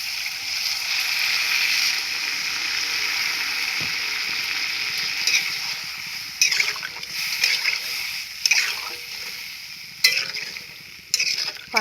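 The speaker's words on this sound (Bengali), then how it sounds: "আর আমি জল দিয়ে দেব।" Water is poured into a cooking pan of fried masala, producing a loud, steady hissing splash and sizzle that eases off, followed by a few clanks and scrapes of a utensil close by.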